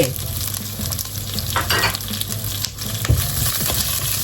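Onion stir-fried in a pan for a Thai chicken stir-fry, a steady close sizzle running throughout with scraping stirs and a sharp utensil knock near the end.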